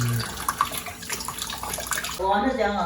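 Tap water runs and splashes steadily as leaves are washed for sticky rice dumplings, with voices talking over the rushing flow.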